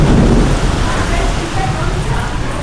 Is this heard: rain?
yes